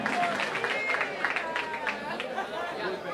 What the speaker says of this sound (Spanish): Démosle un fuerte aplauso a Luis de Luna, quien ya se encuentra calentando en el bullpen